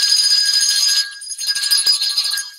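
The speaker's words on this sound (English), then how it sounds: "I'm doing the Ed Norton bell and the jingle bells at the same time" Two bells ring together, an Ed Norton bell and jingle bells, bright, shimmering and close, with sustained ringing tones and jingling that dips once and picks up again; no talking.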